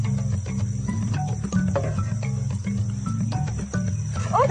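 Jungle crickets chirp in steady, dense pulses in a Gabon rainforest, with other insects and wild animal calls in the background and no voices.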